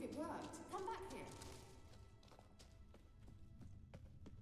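Hoofbeats of Kelpie, a horse in the video game The Witcher 3, a run of clip-clop steps that starts under a voice and then carries on alone as a steady, fairly close rhythm.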